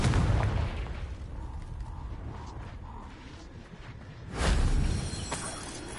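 Explosive Confringo spell blasts in Hogwarts Legacy on PS5: a loud low burst opens, a quieter rumbling stretch with faint tones follows, then a second strong boom lands near the end, with no talk.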